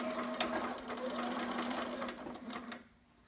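Sewing machine running a zigzag stitch on a newborn romper through a thick section of fabric, a steady close whir that slows and stops near the end.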